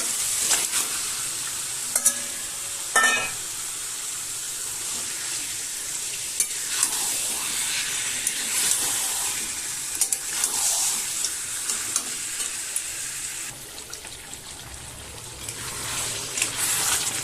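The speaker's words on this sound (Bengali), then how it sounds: "মশলাটা কষা হয়ে গেছে, এবার আমি চিকেনটা দিয়ে দিলাম।" Chicken pieces sizzle and fry in a spiced masala for a curry with potato, while a spoon stirs and scrapes the pan in steady bursts, close and fairly loud, with no talking.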